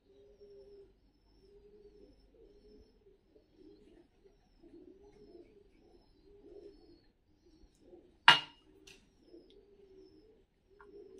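Soft, repeated cooing of fighting pigeons kept in Tbilisi, Georgia, rising and falling in low murmurs throughout, with a sharp flapping or clatter near the end.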